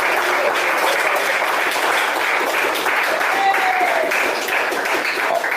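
Steady, dense applause fills a church congregation during a sermon on baptism, holding at an even, loud level throughout with no clear breaks.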